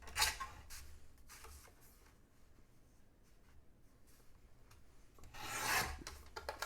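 A Dollar Tree clipboard is cut and trimmed by hand, giving a rasping, scraping stroke at the start and another near the end, with quiet scratchy handling in between, close up and with no talking.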